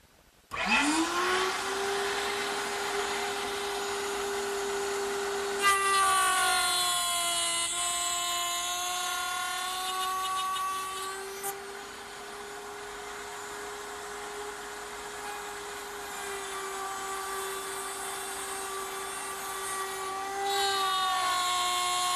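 A router spinning on a router table while cutting wood for a bedside table, a loud, steady, high whining drone held close throughout, its pitch shifting slightly as the cut loads and eases, with no voices.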